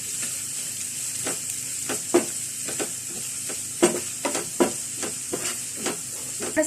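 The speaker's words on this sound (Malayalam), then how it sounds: "അത് നന്നായിട്ട് നല്ലൊരു ഗോൾഡൻ ബ്രൗൺ കളർ ആവുന്ന വരയ്ക്കും നമുക്കിതൊന്ന് വഴറ്റിയെടുക്കാം." Onions fry with a little salt in a pan until golden brown, giving a steady hissing sizzle, while a spoon stirs and scrapes in repeated bursts, close up and without talk.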